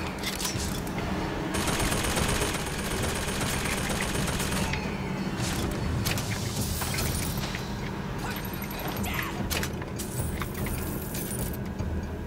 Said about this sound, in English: That's what I'm shooting at.